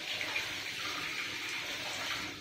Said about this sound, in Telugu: కొంచెం వాటర్ వేసి చూడు